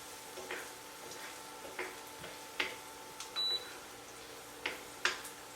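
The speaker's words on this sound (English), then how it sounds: "adding the shallots, garlic, and diced squash to a preheated pan with some cooking oil set to a medium temp" Shallots, garlic and diced squash fry in cooking oil in a preheated pan at medium heat, with a soft steady sizzle and occasional scraping stirs, plus a brief electronic beep.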